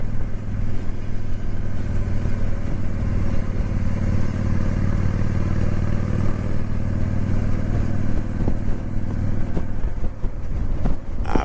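A Honda Shadow Spirit 750 motorcycle cruises along a curvy road, its engine droning steadily and loudly close up for the whole stretch, with wind rush and a few clattering bumps toward the end.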